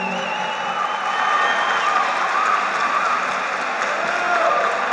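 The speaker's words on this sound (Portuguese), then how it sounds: "mais palmas pro Dunga" An audience at a motivational leadership talk by Dunga claps steadily in a large hall, a continuous wash of applause with faint cheering underneath and no clear pauses.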